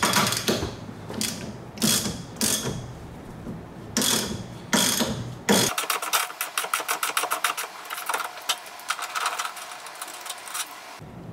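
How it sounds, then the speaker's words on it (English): Lug nut being tightened to pull an extended wheel stud through on a Nissan 240SX, first with several separate bursts of ratcheting, then a long run of rapid close clicks. "you can tighten the nut and it will pull the stud through"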